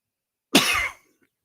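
A radio sports talk host coughs once, a single sharp, close burst lasting about half a second, followed by silence.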